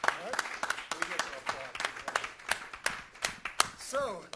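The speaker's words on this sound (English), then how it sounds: "Let's applaud all four of the panel members." Audience clapping for four panel members at a community conversation event, a scattered, moderately close round of individual hand claps with uneven rhythm, over faint background voices.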